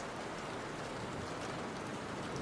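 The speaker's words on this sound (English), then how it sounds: "Rain sounds on window with thunder sounds." Steady rain patters on a window in a relaxing ambience track, a soft, even hiss of drops with no thunder or voices in this short stretch.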